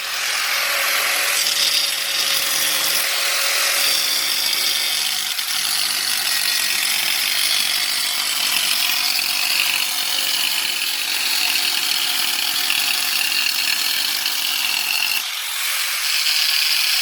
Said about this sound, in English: So I'm just using a really thin 5-inch diamond blade